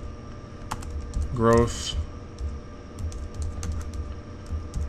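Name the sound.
typing on computer keyboard, PowerShell command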